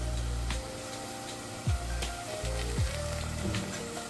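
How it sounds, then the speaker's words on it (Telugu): Ginger garlic paste sizzles steadily in a hot pan for an egg and dried shrimp curry, a constant close hiss broken by a couple of brief clatters. "వేసుకొని పచ్చివాసన పోయేంత వరకు ఫ్రై చేసుకోవాలి"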